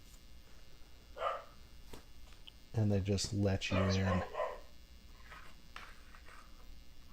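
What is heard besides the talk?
dogs barking, sound effect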